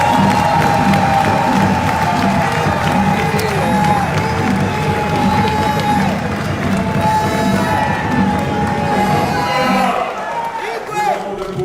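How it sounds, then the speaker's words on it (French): A large crowd at a political rally in Congo applauds and cheers, loud sustained clapping with shouts and whoops, while a voice carries over the crowd noise before it thins out near the end. "je voudrais que vous applaudissiez"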